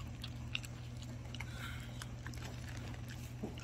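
Pets chewing desalted gompi seaweed, with soft wet bites and crunchy chewing nearby, quiet over a low background hum.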